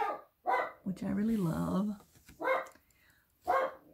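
A dog barks indoors, reacting to noises from outside, with several sharp barks and one longer howling bark, mixed in with someone talking.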